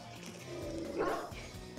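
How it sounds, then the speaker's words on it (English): A dog in the Pokémon Scarlet video game lets out a loud, short bark that stands out briefly over the steady game background. "Jesus Christ, that dog's loud."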